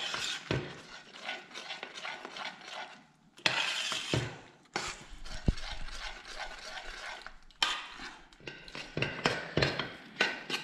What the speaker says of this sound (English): Now you have to keep stirring till it thickens